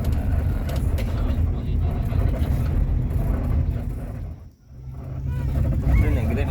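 Convoy of PO ANS buses and a Palala bus on a rough road near Betung, heard from inside as a steady low engine and road rumble that dips briefly before swelling again, with a voice talking over it.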